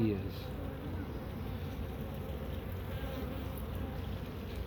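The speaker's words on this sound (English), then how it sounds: "Look how many bees there are everywhere." Dense, steady buzzing of many honey bees swarming around an open beehive, a continuous close insect drone with low rumble beneath and no clear talk.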